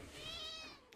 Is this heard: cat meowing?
yes